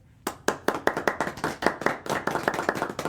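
A small studio audience at a live podcast taping claps briskly and close-up, a dense run of sharp hand claps lasting about three seconds with no talking.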